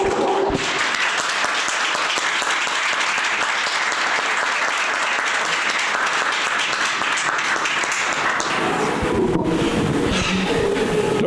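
A church congregation in Dallas claps in steady, dense applause to welcome a preacher, holding for about nine seconds before tapering off into a quieter room with faint rustling.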